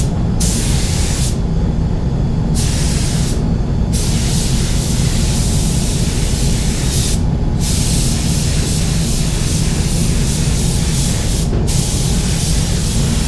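Spray gun laying clear coat over base coat on a vehicle panel, a steady loud hiss running throughout with brief breaks and pauses between passes, close up with no talking.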